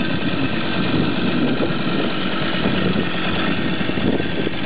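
A 1973 Verhovina moped engine idles steadily in Rádóckölked, a continuous close, loud putter with even low rumble and no pauses or voices.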